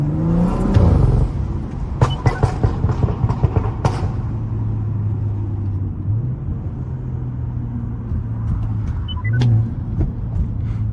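A BMW 335i with a Stage 2+ tune cruises through a city at night, its engine hum and intake whir droning steadily from inside the cabin, with a few sharp ticks and clicks scattered over the low, even rumble.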